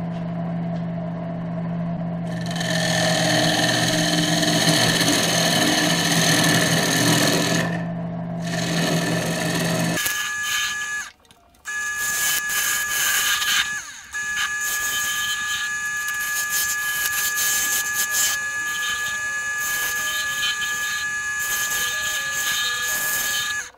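A wood lathe spins a bloodwood box lid while it is squared off, giving a loud, continuous mechanical whir with tool-cutting noise and a few brief drops in level.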